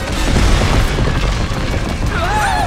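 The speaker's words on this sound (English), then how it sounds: "There are bouncy cannon blasters everywhere!" Cartoon bouncy cannon blasters fire loud booming shots in a burst, followed by a rising whistling zing as a projectile flies off.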